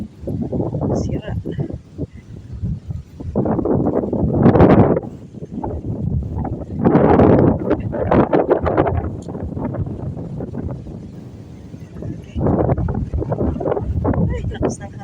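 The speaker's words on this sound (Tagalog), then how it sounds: "Ay, lakas ng hangin talaga." Strong wind gusting across a hilltop campsite in Tanay, Rizal, buffeting the microphone in loud surging bursts and lulls while people talk throughout.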